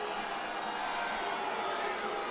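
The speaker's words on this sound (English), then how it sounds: "Well, the crowd doesn't like it." Soccer crowd in a stadium at a Houston Dash versus Portland Thorns women's match grumbling in displeasure over a handball call, a steady broad wash of distant voices with no distinct cheers or single calls standing out.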